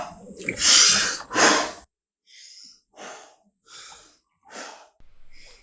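Someone in an ice bath in a chest freezer takes two strong, gasping breaths followed by four slower, softer exhales at a steady rhythm, close and unaccompanied.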